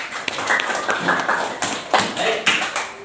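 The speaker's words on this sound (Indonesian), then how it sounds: "Tepuk tangan untuk Ananda Rania. Mana tepuk tangannya?" Clapping from a classroom of students applauding a classmate, a short burst of scattered, uneven claps with a few louder slaps, close and lively, amid light room noise.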